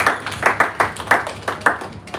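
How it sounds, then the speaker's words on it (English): A small conference audience claps for a speaker, a thin burst of individual hand claps in a loose rhythm that fades out toward the end. "A round of applause for her."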